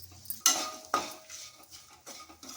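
Turmeric and salt are stirred in a pan for mango pulihora, with a few distinct metal spatula scrapes and clinks against the pan over a faint sizzle and no talking.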